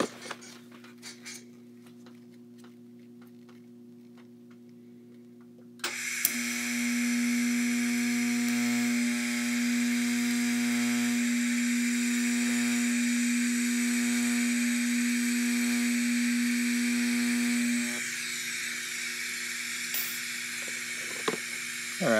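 An anti-roll bar for a Nova drag car being welded, a loud steady buzzing hum with a hiss that starts abruptly, holds for about twelve seconds and cuts off, with faint clicks and handling noises before and after.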